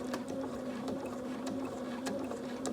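A sewing machine runs back and forth along a stitching line on a pants back pocket, with a steady whirring mechanical hum that is close and continuous throughout and has no talk.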